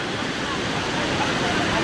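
Forceful water rushes at Hogenakkal falls as a dense, steady roar that fills the short moment, close and loud throughout.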